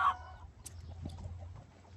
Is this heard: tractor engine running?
no